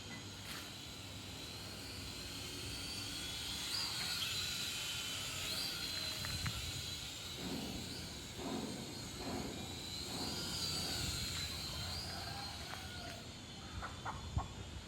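Blackhawk SQ800C drone in flight outdoors, a steady broad whirring hum with a high whine that rises and falls as it moves, fairly loud and continuous, with a few faint knocks and no talk.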